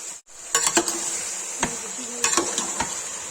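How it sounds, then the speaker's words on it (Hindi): Chicken stirred and fried in a pan for dhaba-style murgh do pyaza, a constant close sizzle with several clanks and scrapes of a spoon against the pan. "अब चिकन को हिला देंगे।"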